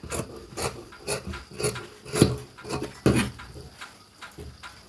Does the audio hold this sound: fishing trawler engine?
no